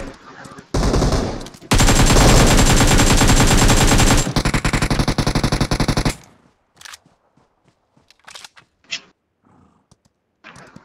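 Gunfire in a mobile shooter game: long bursts of rapid automatic fire, loud and close, followed by scattered single shots and game effects.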